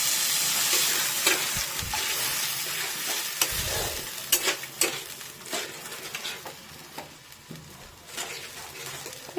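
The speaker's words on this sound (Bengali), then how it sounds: "এবার এটা খানিকক্ষণ একটু কষিয়ে নেব" Fish masala with yogurt, turmeric and chili powder sizzles steadily in oil, with repeated spatula scrapes and stirring knocks against the pan, close and fairly loud, with no talking.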